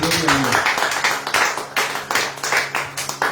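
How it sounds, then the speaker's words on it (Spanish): A church congregation applauds in a pulsing, near-rhythmic wave of claps, loud and close, with a voice briefly heard at the start. "Den un aplauso a Cristo"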